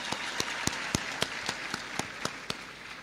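Audience at a World AIDS Day event at Kibabii University clapping in a slow, even rhythm of sharp, separate claps over a steady crowd murmur.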